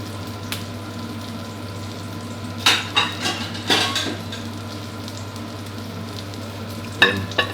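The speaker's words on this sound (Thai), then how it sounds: "ทอดด้วยวิธีนี้ครับไฟกลางๆนะทอดไปเรื่อยๆครับ" A Thai omelette fries in oil over medium heat with a steady sizzle, broken by a few sharp scrapes and clinks of a utensil against the pan.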